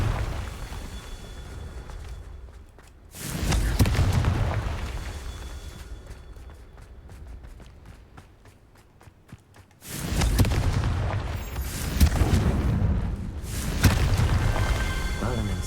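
Confringo fire spell explosions in the Hogwarts Legacy video game: two heavy, booming blasts several seconds apart, each followed by a loud rumbling roar that slowly fades.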